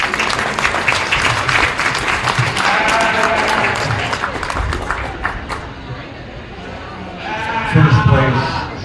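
Applause from a county fair sheep show crowd for the young exhibitors, mixed with bleating sheep and livestock noise in a busy show ring, with a voice over the crowd.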